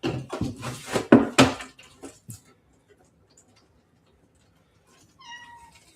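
Pet cat Spice meows several times close by, a run of loud calls in the first couple of seconds, then quiet, then a faint high meow near the end.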